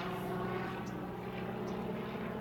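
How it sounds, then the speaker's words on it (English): A helicopter passes overhead on a stormy day at a lake, its steady rotor and engine drone filling the whole stretch at an even, moderately loud level with no talking. "helicopter"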